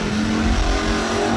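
Drag racing cars at a bracket race, including a 1971 Dodge Demon, roaring loudly and steadily at close range with a dense engine rumble and no break.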